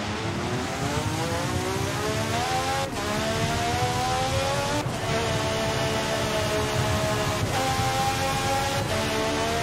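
A race car engine in Forza Motorsport 7 drones loudly and continuously, its pitch climbing repeatedly through the gears with brief dips at each shift.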